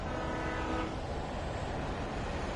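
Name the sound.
train passing in video game Alan Wake Remastered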